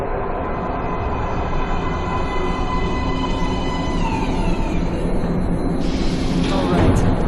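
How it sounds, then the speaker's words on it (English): A subway train rolls into a metro platform in the game Metro Last Light, a loud steady rumble of wheels and engine with rising tonal whine and screech near the end, continuous and close. "Train coming in."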